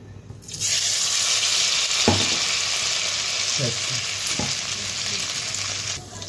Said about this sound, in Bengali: কড়াটা বসিয়ে দিয়েছি, তো তেলও দিয়ে দিয়েছি। তো একে করে বড়াগুলো ছেড়ে দিই।